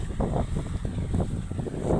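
Wind buffets the microphone outdoors with a loud, continuous low rumble and gusty fluctuations throughout.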